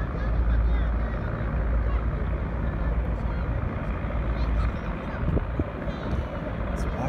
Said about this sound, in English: Let's watch those boats go by.